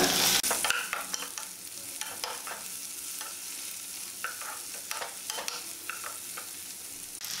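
Radish and tomato sautéing in a pan, a soft continuous sizzle broken by repeated scraping and stirring strokes, close and fairly quiet, with no talk.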